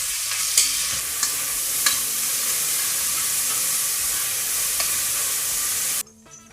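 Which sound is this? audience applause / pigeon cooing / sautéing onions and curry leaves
sautéing onions and curry leaves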